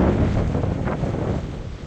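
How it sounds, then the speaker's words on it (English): Strong wind gusts at 12 to 15 roar steadily across an open lake, buffeting the microphone with a close, dense rush for under two seconds, easing slightly toward the end. "The winds are blowing anywhere from 12 to 15."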